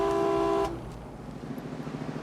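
A car horn blares in one sustained, loud honk lasting well under a second, then cuts off, leaving steady road and vehicle rumble.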